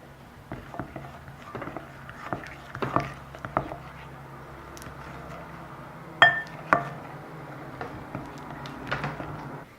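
A spatula stirs baking soda into glitter slime in a bowl, giving scattered soft scrapes and light clinks against the bowl. The sounds come in irregular bursts with a sharper knock near the middle, all quiet and close.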